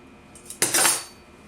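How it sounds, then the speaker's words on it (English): Scissors trimming thick upholstery fabric on a chair, a single short metallic snip and crisp rustle close by, otherwise quiet. "Trim out a little bit more fabric we don't need."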